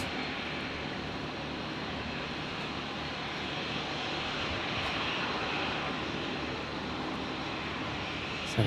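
An Air New Zealand jet rolls for takeoff at Brisbane Airport, a broad, steady engine roar that holds evenly throughout, heard from a distance.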